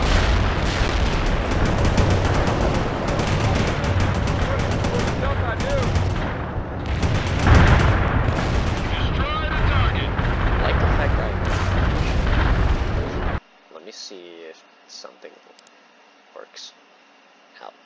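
Mortar fire in World in Conflict: heavy booming explosions and crackling gunfire pound continuously for several seconds, then cut to sparse quieter effects, while talk is heard through it.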